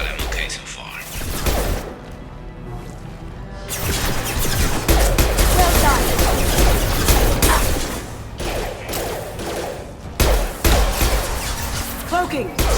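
Sustained gunfire in the Mass Effect video game, with dense, continuous shots and thuds mixed with battle noise, loud and close, while a voice talks at times.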